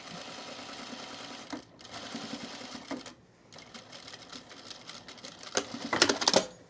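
A sewing machine runs steadily along the neckline seam of a Piper Boho Tunic, its close, continuous whirring broken by two short pauses and growing louder near the end.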